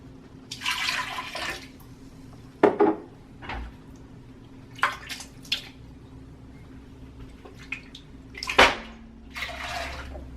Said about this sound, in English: So I'm going to use that other water to do a rinse.